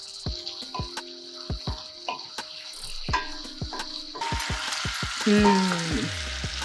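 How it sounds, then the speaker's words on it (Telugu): Tomatoes frying in a pan for a home-cooked lentil stew, a sizzle under a string of sharp clinks and scrapes from utensils, growing into a fuller hiss as the tomatoes go in. "ఇప్పుడు టమోటాలు వేసేసుకుందాం. టమోటాలు బాగా మెత్తగా మగ్గిపోవాలి."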